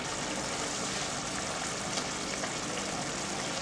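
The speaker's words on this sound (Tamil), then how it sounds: "நல்லா கொதி வரவும் இறக்கிடுவோம்." Jaggery water boiling in a pan for a ragi set dosa batter, giving a steady, dense bubbling hiss that stays even throughout, close by, with no talking.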